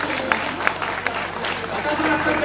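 A crowd at a comic Hindi poetry gathering in Gonda claps for the poet. The clapping is brisk and fairly loud, with a few sharper individual claps and voices mixed underneath.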